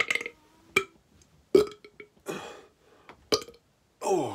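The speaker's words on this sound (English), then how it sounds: "I'm not done burping at all." Repeated loud burps in an office, several separate eructations of varying length spaced over a few seconds, with no talking in between.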